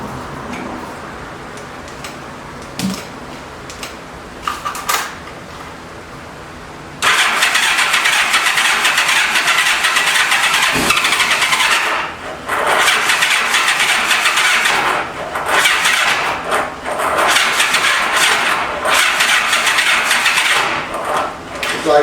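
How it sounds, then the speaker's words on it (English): A 1985 Honda Gold Wing 1200cc motorcycle sits quiet for several seconds, then its starter cranks loudly and continuously in long whirring bursts with brief breaks as the engine struggles but does not catch. "as soon as it gets ready to start, that damn starter kicks out"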